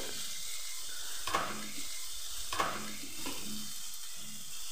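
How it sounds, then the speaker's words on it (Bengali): Chicken pieces sizzle in a frying pan under a steady hiss while a spatula stirs them, giving scraping sweeps that repeat roughly every second or so. "দেখতেই পাচ্ছ চিকেনটা দিয়ে আমি একটু নেড়ে চেড়ে নিচ্ছি"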